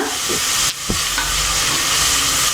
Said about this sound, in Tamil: நமக்கு வெங்காயம் நல்லா கோல்டன் ப்ரௌனில் இருக்கணும்.